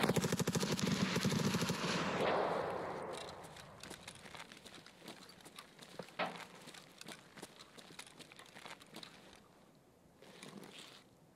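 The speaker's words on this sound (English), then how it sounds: "There's a lot of bullets around me." Rapid automatic gunfire in Escape from Tarkov on the Customs map, a dense burst of shots up front followed by scattered, irregular shots and distant pops that fade and return.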